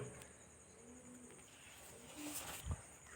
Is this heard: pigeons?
yes